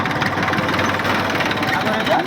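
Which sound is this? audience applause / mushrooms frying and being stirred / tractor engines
tractor engines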